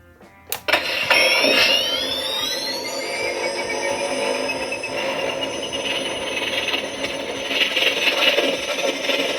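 A sharp click, then the Haslab proton pack toy's stock board and speaker startup: an electronic whine rises in pitch and settles into a steady high hum over a bed of rumbling, crackling noise.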